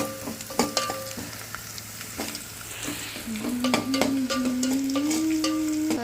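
Onions and tempering seeds fry in hot oil with a loud continuous sizzle, while a spoon stirs and scrapes the pan in repeated knocks, close up and without talk.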